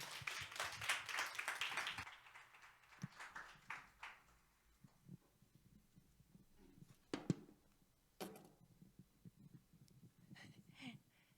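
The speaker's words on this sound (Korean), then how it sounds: "우리 한번 박수로 우리 은지 자매님 맞이할까요?" A church congregation at an anniversary thanksgiving service claps to welcome a speaker, a short burst of applause that fades after about two seconds, followed by scattered quiet room sounds and a few isolated claps.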